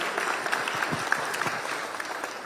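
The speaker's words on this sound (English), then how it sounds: "let's give them a round of applause for doing this" Audience at a New Bern mayor and aldermen candidate forum applauds, a steady dense patter of many hands clapping at moderate loudness for a couple of seconds.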